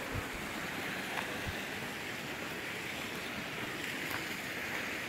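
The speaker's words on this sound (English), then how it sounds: "I think this might be just a little creek that flows into it" A small mountain creek flows beside a hiking trail in Colorado's Flat Tops Wilderness, giving a steady, close rushing of water that stays even throughout with no voices.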